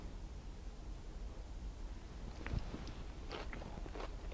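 Someone bites into a Greek salad with cucumber; a steady background hiss gives way to a few soft, close crunches and chews near the end.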